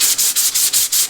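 Hand sanding across turned wood with the grain, a steady series of about six rhythmic strokes, close and loud with a bright, hissing abrasive rasp and short gaps between passes, no voices.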